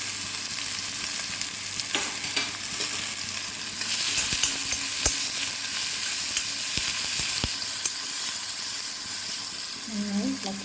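Onions with ginger and green chillies frying in coconut oil in a pan, a steady close sizzle with scraping stir strokes and occasional clinks of the spoon throughout.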